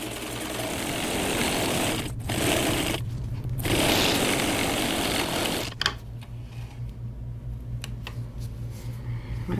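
A sewing machine runs a seam, whirring in long steady bursts broken by short pauses, close and fairly loud with no talk.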